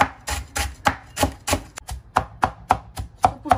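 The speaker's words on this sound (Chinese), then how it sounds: "我妈切了点芹菜，小芹菜" A knife chopping small celery on a cutting board for dumpling filling, a steady run of about a dozen crisp, close strikes with no talk.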